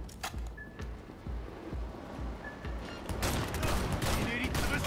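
Gunfire from the video game Cyberpunk 2077 comes as a rapid, rhythmic string of punchy automatic shots that grows into a denser, louder volley near the end, with brief voices in the mix.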